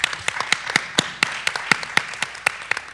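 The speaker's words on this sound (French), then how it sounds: "Est-ce qu'on peut lui donner une bonne main d'applaudissement?" Scattered hand clapping from a talk show studio audience, a sparse and uneven run of sharp individual claps, fairly close, with no voices over it.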